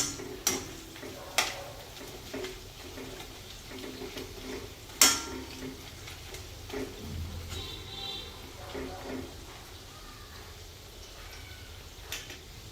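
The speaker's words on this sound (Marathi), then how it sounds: "आता आपण हे परतून घ्यायचे आहे" Semolina-coated pieces being turned and stir-fried in a pan, with scattered clinks and scrapes of utensil on metal over a low sizzle, a few sharp knocks standing out, and talk in the background.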